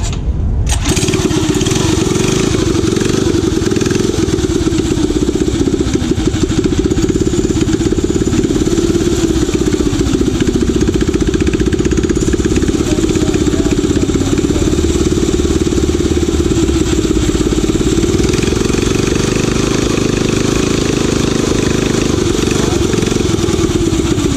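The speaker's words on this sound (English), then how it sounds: "we're going to try to start it with no choke on and see how it starts up" Small engine fitted with a Tillotson TCT carburetor starts right away with no choke and then runs steadily at a loud, close, buzzing idle for the whole stretch.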